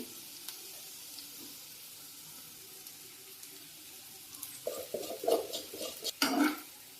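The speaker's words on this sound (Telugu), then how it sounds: "ఇప్పుడు ఆ రైస్ మనం ఆ కడాయిలో వేసుకోవాలి" Boiled rice goes into a hot kadai for egg fried rice, a quiet sizzle building into louder bursts of scraping and stirring toward the end.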